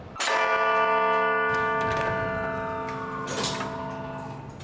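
Clock tower bells ring out loud and close, a struck bell tone with long ringing overtones that swell again partway through and fade slowly, with no voices.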